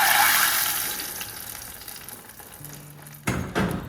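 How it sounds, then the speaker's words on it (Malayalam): Hot coconut oil tempered with fenugreek and curry leaves is poured into a fish curry, giving a loud hissing sizzle that gradually fades, followed by a couple of short clattering bursts near the end, close and without talk. "കുറച്ച് ഉലുവയും കറിവേപ്പിലയും വെളിച്ചെണ്ണയും കൂടി നല്ലോണം കാച്ചിയിട്ട് നമ്മുടെ മീൻ കറിയിലേക്ക് ഒഴിച്ചു കൊടുക്കാം"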